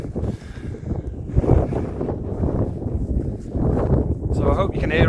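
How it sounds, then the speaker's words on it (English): Strong wind buffets the microphone on an open hillside in the Lake District's Wasdale valley near Wastwater, loud gusty rumbling that rises and falls throughout, with people talking underneath. "So I hope you can hear us over the wind. It's quite breezy up here."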